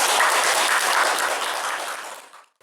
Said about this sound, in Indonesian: Kita tepuk tangan untuk kita